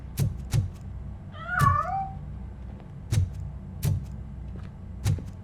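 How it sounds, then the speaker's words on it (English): A cat meows with a rising, wavering call in the RoboCop Rogue City video game, set amid a string of sharp periodic thumps and light background noise. "That cat must be hiding inside."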